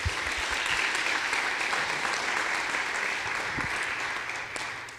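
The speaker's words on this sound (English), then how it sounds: "they all deserve a big round of applause as well" An audience at a watershed association water summit gives steady, sustained applause, moderately loud and even throughout, with no talking over it.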